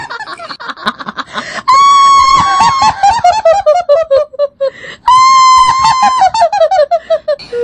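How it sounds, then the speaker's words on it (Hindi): Shrill, piercing cartoon screams in a graveyard rise and fall in long wailing bursts, repeated twice with eerie chattering cries in between. "चारों तरफ से चीखने की आवाज सुनाई देता है"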